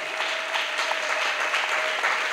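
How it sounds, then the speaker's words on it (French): Church congregation claps together in a lively, continuous round, close and bright with a faint steady tone underneath. "Acclamation. Clap offering."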